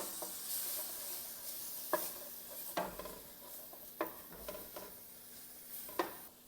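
Onions and minced garlic sizzle in a pot for a crawfish burrito casserole, a steady hiss broken by regular scraping strokes of a spoon stirring through them.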